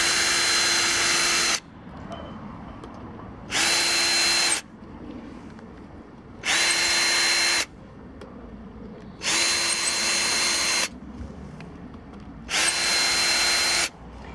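Power drill backing bolts out of a 300W wind turbine during a teardown, five loud whirring bursts of about a second or two each, spaced by short quiet pauses.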